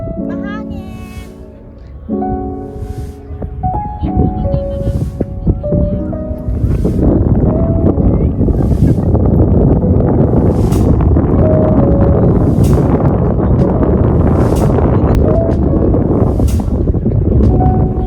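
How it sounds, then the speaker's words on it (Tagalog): Wind gusts across a lake in a park, a strong steady roar buffeting the microphone that builds after a few seconds, with people talking over it. "Mahangin."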